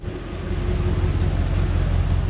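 A 1971 Oldsmobile Cutlass V8 idling smoothly nearby, a low, even rumble that swells slightly at the start and then holds steady.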